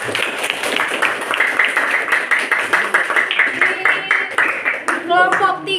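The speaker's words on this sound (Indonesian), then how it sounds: "tepuk tangan buat kelompok 3" A classroom of children claps for a student group in a fast, rhythmic unison pattern, loud and close, with young voices chanting along and a burst of speech at the end.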